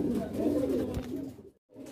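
Pigeons coo in a loft, a soft, low, continuous burbling close by that cuts out briefly near the end.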